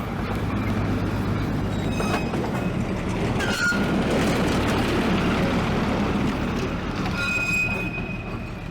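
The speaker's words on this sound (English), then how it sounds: "Affectionately known as the toy train, the Darjeeling Himalayan Railway is both a marvel of engineering" The Darjeeling Himalayan Railway toy train, an old high-altitude narrow-gauge line, rolls past loud and near, its cars rumbling steadily with wheels squealing and scraping on the rails, with no voices over it.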